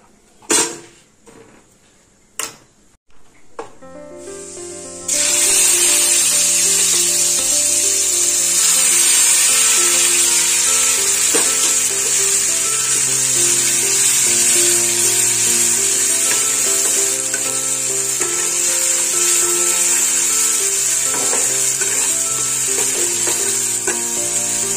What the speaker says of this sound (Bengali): তেলটা গরম হয়ে গেছে, এবার আমি এর মধ্যে দিয়ে দেবো পোস্ত বাটা।